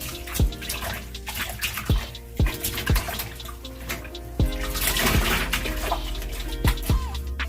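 Water runs and splashes steadily as a curly headband wig is washed under a tap, with repeated wet drips and plops landing over the continuous flow at close range.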